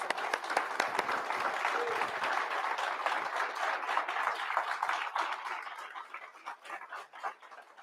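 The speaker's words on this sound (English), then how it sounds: "Please, a round of applause." An audience at a Board of Education public session applauds graduates as they come forward for a photograph, steady dense clapping that thins and tapers toward the end.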